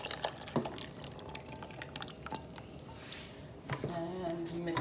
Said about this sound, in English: what you're going to do now is pour this mixture into the soup